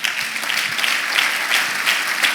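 A church congregation applauds loudly and close at hand, a dense continuous clatter of many hands with no voices over it.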